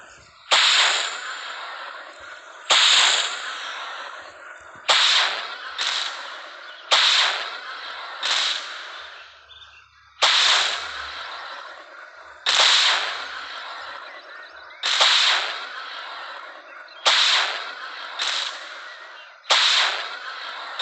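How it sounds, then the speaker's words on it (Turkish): In the video game Dude Theft Wars, a rocket launcher fires again and again, about a dozen loud sharp blasts, each trailing into a short roar, spaced roughly two seconds apart. "Şimdi roket atmayı bırakabilirsiniz."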